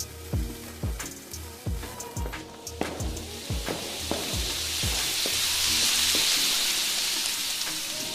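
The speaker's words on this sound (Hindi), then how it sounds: "चुन्नी के बाद बुल्ली एक अनार जलाता है।" A cartoon anar fountain firework lit during Diwali starts after a run of rhythmic thumps and swells into a steady, loud, hissing sizzle that fills the last several seconds.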